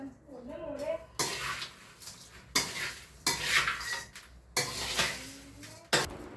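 Chevda being mixed with powdered sugar in a metal pan, with repeated scraping and clattering strokes of a spoon in bursts roughly every second, close and fairly loud, a brief voice sound at the start.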